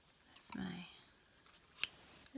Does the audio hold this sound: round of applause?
no